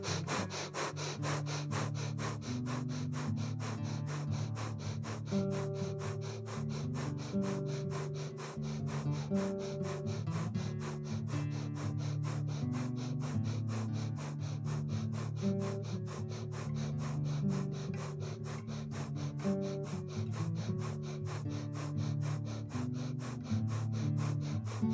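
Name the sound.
breath of fire pranayama breathing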